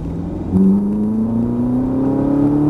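A Ferrari GT3 engine revs up with a rising whine, accelerating steadily and loudly nearby with no talking.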